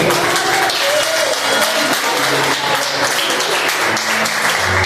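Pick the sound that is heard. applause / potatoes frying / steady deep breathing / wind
applause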